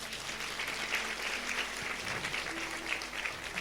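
A church congregation claps loudly and continuously at a worship service. The applause is a steady, dense, sustained clatter with a low hum underneath and a brief faint voice.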